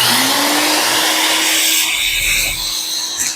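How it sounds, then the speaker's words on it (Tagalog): A vacuum cleaner whines loudly and close while cleaning inside an HP Ink Tank 315 printer, a steady high motor roar whose pitch shifts slightly as the nozzle moves, with no talking. "Tapos, i-vacuum natin."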